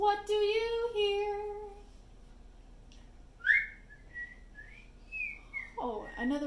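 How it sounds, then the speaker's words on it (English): Bright, sliding whistled notes come in a few short phrases, preceded by a brief vocal tone and followed by a quick voice at the end. "I hear a zookeeper whistling in my ear."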